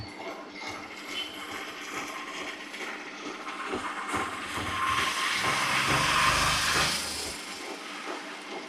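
A 2-litre wet grinder churns dosa batter with a steady mechanical whirring and hissing rumble, swelling louder in the middle before easing back, with no voices.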